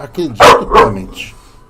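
A dog barking nearby, two loud, close barks in quick succession, then a softer trailing sound, with no talk over them.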